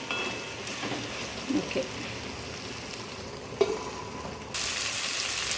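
Tomatoes fry in a hot pan until golden, a steady broadband sizzle running throughout with a few soft stirring clinks, and the hiss swells louder near the end; a voice says one brief word.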